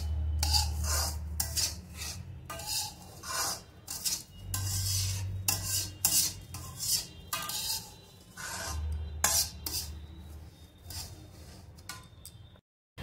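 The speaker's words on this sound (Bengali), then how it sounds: "চিনিটা দিয়ে নেড়ে নেব। এটা নিয়ে বেশ করে একটু কিছুক্ষণ নাড়তে হবে।" Semolina and sugar are stirred in a pan for halwa, repeated scraping and rasping strokes of a spoon against the metal in uneven bursts with short pauses, close and fairly quiet.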